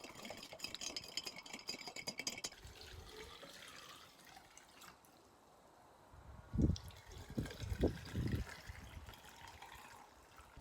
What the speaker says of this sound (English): Stir until it dissolves.